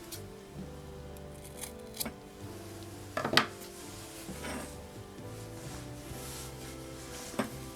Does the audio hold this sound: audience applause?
no